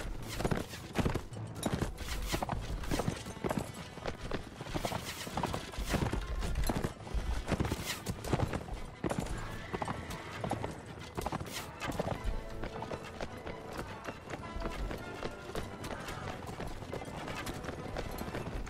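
Horses gallop in the medieval combat game Mount & Blade, giving a dense, loud clatter of many hooves with a few whinnies over a constant battle din, lasting throughout.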